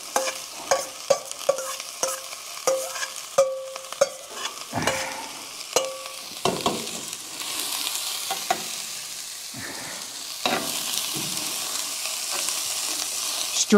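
Vegetables sizzle in oil inside a Dutch oven while a utensil scrapes and clinks against the pot in quick repeated strokes, settling into a steady, louder frying hiss toward the end.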